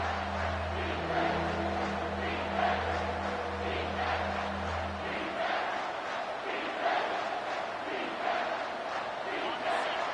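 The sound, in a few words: stadium crowd roaring in College Football 25 video game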